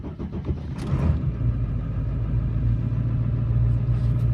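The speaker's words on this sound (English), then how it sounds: "So let me start the truck." A Ford F250 pickup's 7.3 diesel engine starting on a 45-degree day: a brief cranking whir, then the engine catches and settles into a loud, steady, low idle rumble, heard close with no talking.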